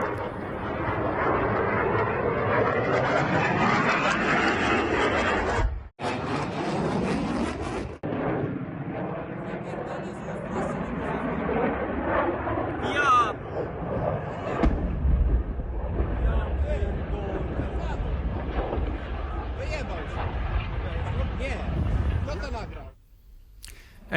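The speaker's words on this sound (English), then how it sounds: "Our newsroom has just obtained footage of the crash, which shows the plane rapidly losing altitude." An F-16 jet crashing before an air show produces a loud, sustained roar of aircraft noise that swells and cuts out sharply, with a heavy low rumble building toward the end.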